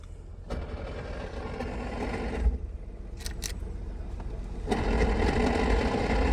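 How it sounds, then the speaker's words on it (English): A Holden VY Commodore idles with a steady mechanical whine and rattle from a faulty gearbox, the noise dropping briefly before returning louder. "so the noise is in the gearbox"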